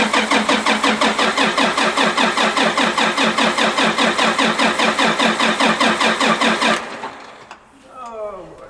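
A 340 tractor with air in its fuel filter cranks without starting. The starter churns in a fast, even rhythm of loud pulses for about seven seconds, then cuts off, leaving a quiet tail with a brief voice.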